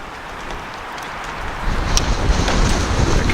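Strong wind gusting on a hiking trail by a roadside, a loud steady broadband rush that swells and grows rougher partway through, buffeting the microphone with no talk.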